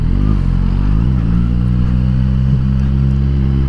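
Suzuki GSX-R1000R motorcycle heading into Gorleston High Street, its engine droning steadily up close as the rider drops a couple of gears, pitch stepping between shifts over wind rush.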